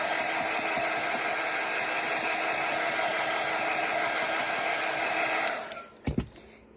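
A heat tool blows a steady, loud, close hiss of air while it warms craft wax, running unbroken for several seconds before cutting off, followed by a couple of soft handling knocks.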